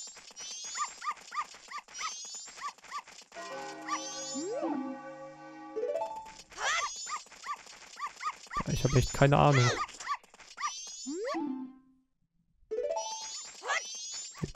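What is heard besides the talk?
dogs barking in dog race, Zelda Majora's Mask 3D video game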